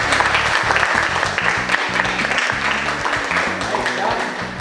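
Students in a school classroom clap together after group work, a loud, close burst of many hands with uneven rhythm, mixed with voices talking throughout.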